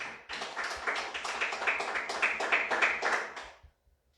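A church congregation claps hard for the Lord during a sermon on the purposes of fasting, a close burst of hand claps that runs about three seconds and then stops abruptly.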